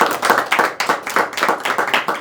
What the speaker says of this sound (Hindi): फिर से एक बार जोरदार तालियां बजाइए दोस्तों।